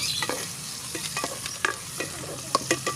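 Onion, garlic and ginger sautéing in a pan in an outdoor dirty kitchen for chicken tinola, a steady soft sizzle with scraping stirs and a few sharp clinks of the utensil.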